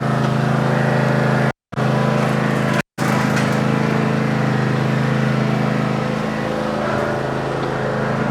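A riding lawn mower's small engine idles steadily, loud and close, with two brief dropouts early on; the mower sits on a trailer after being choked and started.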